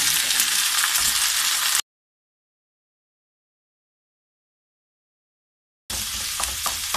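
Garlic-ginger paste frying with onions in a pan for achari masala keema makes a dense, close sizzle that cuts out to silence for several seconds, then returns just as strongly.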